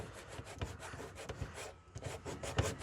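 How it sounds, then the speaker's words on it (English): Old tape residue is rubbed off bare plastic during a Ford Festiva teardown, a close, rough scrubbing rasp in repeated strokes that continue for about three seconds with no talk. "if I keep rubbing all that old tape off, we get down to bare plastic"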